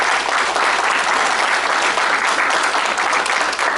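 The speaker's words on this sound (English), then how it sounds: "I would like to give a huge round of applause for Tracy Lefko" A school board meeting audience gives a dense, loud, sustained round of applause with no pauses from start to finish.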